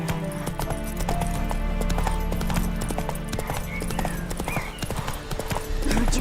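Roach, the horse in The Witcher 3, gallops with a dense, rapid clip-clop of hooves under continuous game music, with a brief snort or whinny mixed in.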